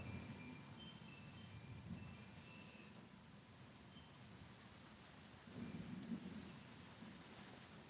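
A summer thunderstorm with steady rain hissing on surfaces and low rumbles of thunder, heard faint and distant with no talking.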